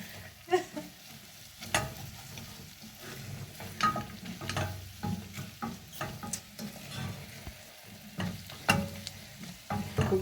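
Liver wet fry with onions sizzles and crackles steadily in a pan, with stirring scrapes and soft clatter throughout, fairly close and moderate in loudness, no talking.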